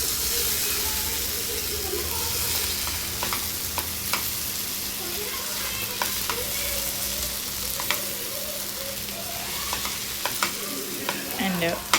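Dry fish curry, village style, being stirred in a frying pan: a steady close sizzle with repeated scraping strokes of the spoon, no talk.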